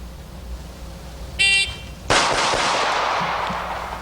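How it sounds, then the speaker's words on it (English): Pistol shots fired fast from a low-ready stance on a timer, a comparison of Rowland-chambered handguns, with a loud blast and ringing tail after the timer's beep. "I'm going to start from low ready, safety on, finger off trigger, low ready, bang, bang, bang, as quickly as I can"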